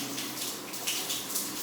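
Water runs steadily into a bath from a storage tank in Jamaica, a soft, continuous rushing hiss heard close by with no talking.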